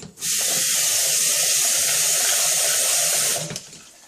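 Water gushes from a tap in a strong, steady hiss for a few seconds while rice is washed, then cuts off, with faint splashing underneath.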